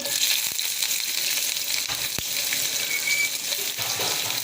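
Bay leaves, cinnamon, cloves and onions frying in hot oil for a Chettinad chicken kurma, a steady broadband sizzle with a few faint clinks and taps, close and continuous.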